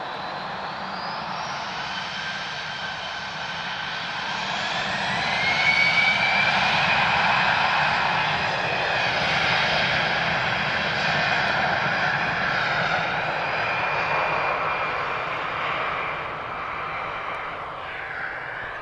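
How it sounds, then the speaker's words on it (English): An Airbus A320-214 departing Lisbon Airport: a loud, continuous jet-engine roar with a high whine. It swells to a peak midway and then slowly eases off, heard from outside with no talking. "So guys, this is the one that's departing now. This is an A320-214."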